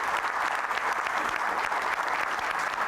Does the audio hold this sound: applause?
yes